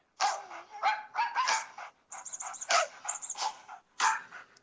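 A phone ringtone of recorded dog barking sounds off in repeated short, bright barks and yips, grouped in irregular clusters with short pauses, clear and unaccompanied.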